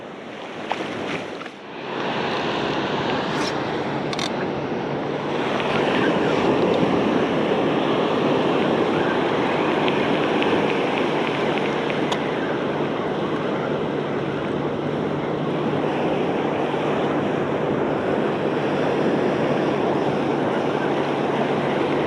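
Ocean surf rolls onto a fishing beach in a steady, loud, continuous wash, mixed with wind buffeting the microphone, with no clear pauses between breaking waves.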